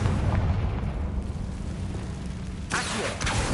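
A Confringo fire-spell explosion from the video game Hogwarts Legacy erupts as a loud, broad boom that rumbles and fades, followed near the end by a second sharp burst.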